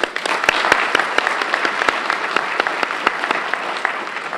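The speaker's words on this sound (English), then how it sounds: "Let us again give a round of applause to our panelists." A seminar audience gives panelists a loud round of applause, dense close claps with sharp individual hits standing out, sustained evenly throughout without speech.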